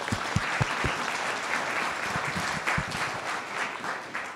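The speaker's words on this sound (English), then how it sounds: "a round of applause and thank you for your sponsors" An audience at a film festival award ceremony applauds the sponsors, sustained dense clapping from a crowd with a few sharper individual claps standing out near the start.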